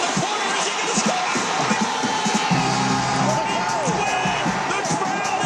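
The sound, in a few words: stadium crowd cheering as fans rush the field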